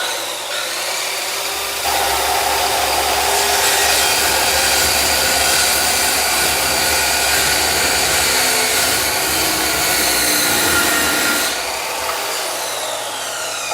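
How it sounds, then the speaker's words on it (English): Circular saw cutting wood, a carpenter's tool, running as a loud continuous whine and rasp for about ten seconds close by, starting and stopping abruptly with no talk over it. "Use this circular saw. It's a very popular tools for carpenter."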